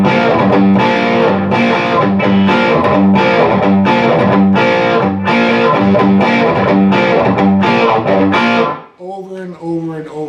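Distorted electric guitar chugs through an outro rhythm, repeating the first measure in a tight, loud driving pattern before breaking off into a few quieter picked notes.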